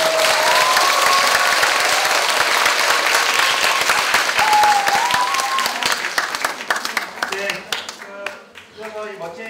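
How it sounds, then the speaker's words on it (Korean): Sustained audience applause for student debaters at a Korean youth unification debate final, loud and dense at first, then thinning toward the end with scattered claps, with faint tonal sounds. "멋진 디베이트를 보여준 우리 학생들에게 다시 한번 큰 박수를 부탁드립니다"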